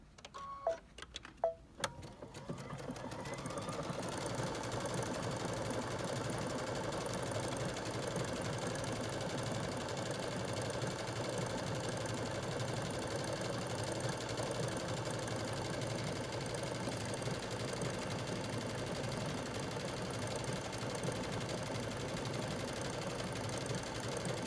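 A Baby Lock Solaris sewing machine stitches a decorative pattern in a steady, quiet mechanical whir that continues evenly for over twenty seconds after a few faint clicks at the start.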